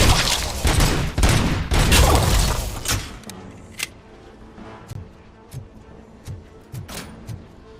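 Rapid bursts of micro SMG gunfire in the first-person shooter RoboCop: Rogue City, a dense loud fusillade for about three seconds, then scattered single shots and impacts spaced out over a quieter background.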